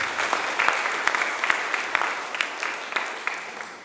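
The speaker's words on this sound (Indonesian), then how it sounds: "Tepuk tangan untuk Tuhan." Applause from a church congregation at a Sunday worship service, steady clapping with scattered sharper claps, moderately loud and continuing throughout.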